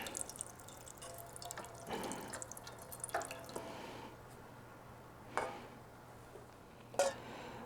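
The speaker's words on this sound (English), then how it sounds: "and let the fuel come out." Fuel drips from the opened fuel line of a Honda GX390 engine: a few scattered, quiet drips and splashes over a low steady hum, with two sharper drops near the end.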